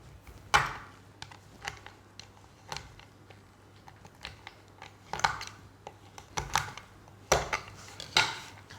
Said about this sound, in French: Je vais casser mon chocolat en petits morceaux.